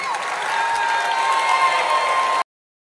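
A large crowd at a Donald Trump presidential campaign announcement applauds and cheers loudly and continuously, then the sound cuts off abruptly.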